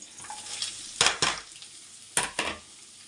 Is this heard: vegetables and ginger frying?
yes